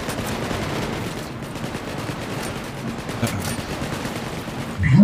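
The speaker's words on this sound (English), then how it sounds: "Can't tell where the shots are going." Rapid, continuous gunfire crackles through a match in the video game Wormhole Wars, a dense automatic-fire clatter that stays steady for several seconds before a louder hit at the end.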